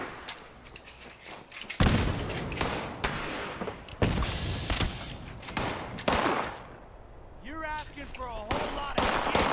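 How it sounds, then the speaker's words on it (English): A grenade fight in Fallout 76, with a series of heavy booming blasts and bursts of gunfire at irregular intervals, a player talking between the explosions. "This has just turned into a grenade fight."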